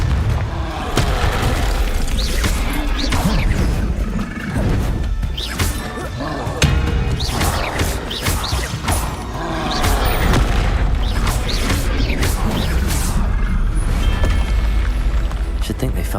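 Fire-spell explosions in the video game Hogwarts Legacy, repeated heavy booms and crashes with crackling debris over a continuous rumbling combat backdrop, loud and close, with voices shouting between blasts.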